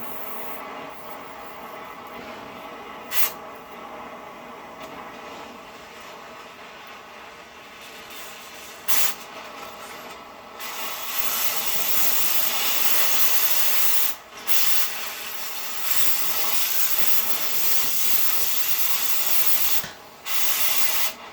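A plasma cutter cutting metal, a harsh, steady hissing roar running continuously with a few brief cutoffs and restarts, fairly loud and up close with no voices.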